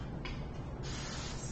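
Hairspray hisses onto teased hair in a short burst that swells partway through and holds steady, close and moderately loud.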